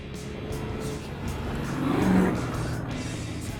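A blacked-out Plymouth Satellite muscle car fitted with a 440 engine rumbles steadily nearby, its exhaust swelling in a brief rev mid-clip before settling back to a deep idle.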